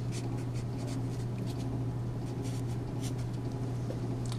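Pen or marker writing out a math equation by hand, soft scratchy strokes in short irregular bursts over a steady low electrical hum, faint and close.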